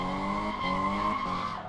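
A steady, loud engine drone from the FMW Panther car in Car Mechanic Simulator 2015, accelerating with a constant harmonic whine and little change in pitch, heard alone.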